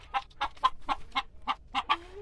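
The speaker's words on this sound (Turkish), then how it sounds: "İşte bu bizim tavuğumuz." A broody hen being settled onto a nesting box clucks in a short run of about eight evenly spaced, close clucks, ending in a drawn-out murmur, with no talking over it.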